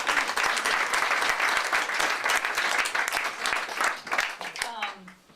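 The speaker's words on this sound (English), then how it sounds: "let's just clap for the review panel" An audience at a musician contest claps for the review panel, a dense, sustained round of applause that fades near the end, with a voice speaking over it.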